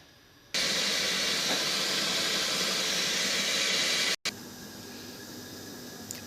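A steady, loud hiss of steam from a pot of boiling water starts abruptly, cuts out briefly, then continues more quietly.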